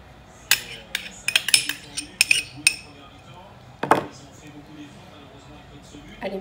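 A spoon stirring egg yolk and butter in a bowl for cookie dough, with sharp metallic clinks and scrapes against the bowl in irregular bursts, one heavier knock midway, and people talking throughout.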